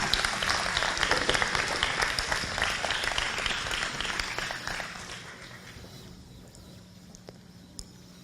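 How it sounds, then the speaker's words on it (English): At an inter-faith commemoration gathering, a crowd gives a round of applause for the volunteers, loud and dense clapping that gradually fades over several seconds into a quieter room with a few stray claps. "Can I have a round of applause for all the volunteers,"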